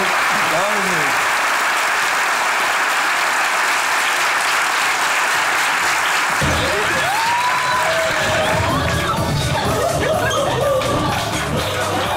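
Studio audience applauds after a sketch on a Turkish comedy show, steady dense clapping filling the room, with voices rising over the applause in its second half.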